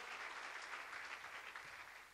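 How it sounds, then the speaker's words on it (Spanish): A church congregation claps hard in praise after a testimony of answered prayer; faint, distant-sounding but dense applause held steady throughout, no speech over it. "dele fuerte el aplauso"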